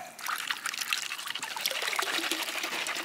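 Shallow water trickling and rippling over rocks and riffles in a stream while panning for gold at an old ghost town, a steady close babble of small splashes with no talk.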